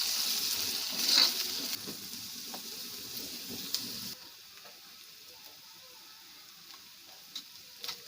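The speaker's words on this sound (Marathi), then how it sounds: "त्याला तेलात परतून घेऊया।" Okra bhaji for a Malvani dish sizzling as chillies and onions fry in oil, a steady close crackle that is louder for the first four seconds and then settles to a quieter hiss with occasional small ticks.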